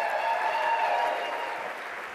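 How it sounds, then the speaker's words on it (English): Applause from a nonprofit storytelling conference audience fills the room in a steady wash of clapping that fades slightly toward the end. "Give them applause."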